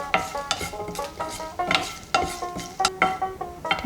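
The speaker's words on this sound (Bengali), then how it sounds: "এই একটু কালচে কালচে হলেই লঙ্কা শেঁকা হয়ে যাবে" Dry chillies and spices roasting in a pan for a Bengali bhaja moshla spice mix, with repeated scraping stirs and light crackling in an irregular rhythm, close and moderately loud, no talk.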